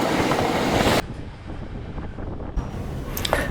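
Rail noise from an international train crossing the border from Thailand into Laos: a steady loud rumble of the moving train, briefly dropping quieter, then continuing with a faint squeal near the end.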